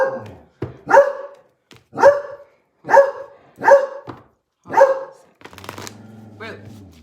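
A dog barks six times at close range in a steady rhythm, each bark loud and sharp with pauses between, followed by rustling and handling noise.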